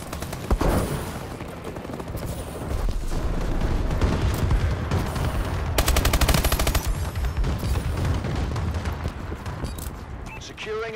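A bombing run strikes during a multiplayer match of Call of Duty: Advanced Warfare, with dense overlapping explosions and rattling automatic gunfire under announcer voice callouts, growing busier and peaking midway.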